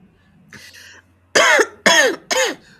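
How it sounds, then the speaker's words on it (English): Three harsh coughs in quick succession, close and loud, preceded by a faint breathy throat sound. "She has a bad cough."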